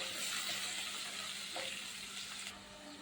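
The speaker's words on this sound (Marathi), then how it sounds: "चांगलं परतून घेऊ." Garlic, curry leaves, dried red chillies and chopped onion sautéing in hot oil for sambar, giving a steady, close sizzle and frying hiss throughout with faint stirring.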